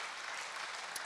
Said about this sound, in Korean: 이때는 박수 한번 치셔야 돼. 박수라고.